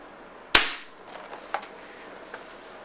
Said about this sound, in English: Now let me shoot one shot of pure air, like there's no ammo inside.